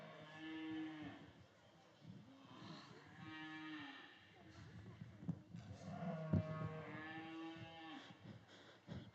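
Cattle at a youth beef and bucket calf show, a cow mooing for her missing calf: several long, loud harmonic moos in a row, close by, with faint crowd noise behind.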